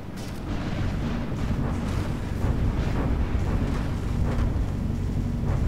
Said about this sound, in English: Keep that broadside coming in